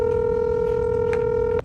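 Telephone touch-tone dialing: a single loud, steady DTMF tone held clearly for over a second and a half before cutting off abruptly, close and alone.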